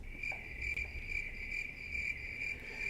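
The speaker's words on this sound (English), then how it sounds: "Crickets. Crickets, man." Steady cricket chirping carries on alone throughout, a continuous high trill with faint rhythmic pulses and a low background rumble underneath.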